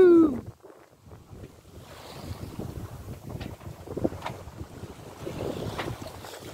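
A sailboat under full mainsail and genoa making about five knots at sea, heard as steady wind buffeting and rushing water against the hull, close and fairly loud, with no talking.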